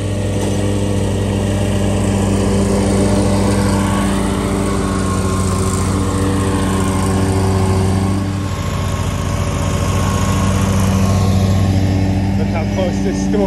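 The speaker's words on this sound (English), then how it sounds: "then she's gonna mow this" A lawn mower runs continuously while cutting through an extremely overgrown flower bed with weeds over six feet tall, giving a loud, steady engine drone close by with slight shifts in load.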